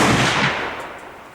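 A single 7mm PRC rifle shot, heard as one sharp broadband blast that fades into a short rolling echo, with no voices.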